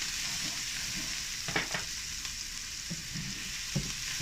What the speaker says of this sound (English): Let them just saute.